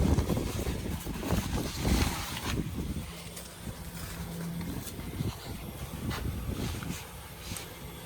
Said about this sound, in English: It's kind of windy out. The wind doesn't help.